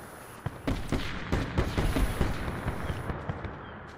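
Rapid gunfire in Call of Duty: Black Ops 4's Blackout mode crackles through the whole stretch, a dense run of sharp bursts and overlapping shots at moderate distance, steady and continuous with no talk.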